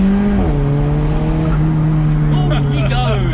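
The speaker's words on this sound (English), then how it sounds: "It lit the wheels up a little bit there." A car revs hard and spins its wheels, the engine note dropping as a short tire squeal rises, with people talking excitedly over the noise.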